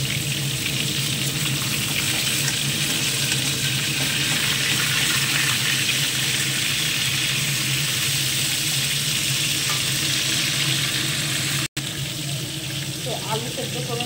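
Fish sizzling in a pan of hot oil for a fish curry, a continuous close frying hiss with bubbling and occasional stirring, with a brief sharp break near the end.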